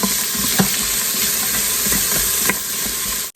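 Celery and onions sauté in a pot for vegetable soup, giving a loud, continuous hissing sizzle with a few soft stirring knocks.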